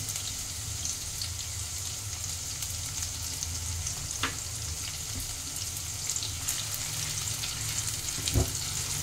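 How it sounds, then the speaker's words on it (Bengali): Chopped garlic and green chilli frying in a pan, with a dense continuous sizzle and a few scattered clicks of a spoon stirring, the loudest near the end, close and moderately quiet with no voices. "রসুন কুচিটা দিয়ে একটু নাড়াচাড়া করে নিয়ে আমি এতে কাঁচা লঙ্কা কুচিটা দিয়ে দেব।"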